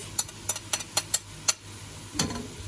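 Mushrooms and grated garlic sautéing in butter in a pan, a low steady sizzle broken by a series of sharp clicks and scrapes of a utensil stirring, close and fairly loud.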